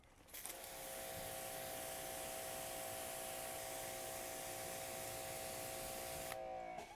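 A water spray hisses steadily for about six seconds as a waxed test panel is rinsed, starting and stopping abruptly with a faint tonal hum from the pump underneath.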